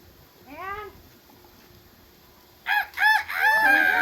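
A cat's short meow, then after a pause a rooster crows loudly and close by, its call rising and stretching out.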